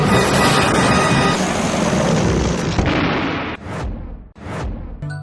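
A villain exploding in midair in a film scene: a loud, sustained roaring blast rumbling for several seconds, then breaking into two sharp bursts as it fades.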